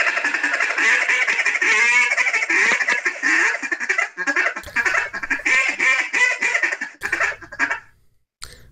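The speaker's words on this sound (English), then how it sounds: "you run your feed call?" Duck feed call blown by hand on a wooden duck call, a rapid rolling chatter of quacking notes in fast bursts, loud and close, with brief pauses near the end.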